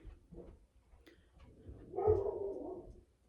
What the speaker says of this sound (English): I apologize for any barking that might happen.